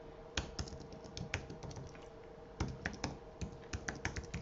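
Steady typing on a computer keyboard, irregular quick clicks of keys at close range over a faint constant hum, with no talking.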